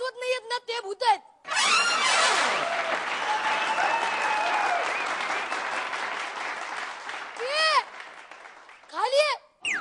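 Audience applause at a live stage show, sustained clapping from a crowd that swells and holds for several seconds, with a speaker's voice heard briefly before and after.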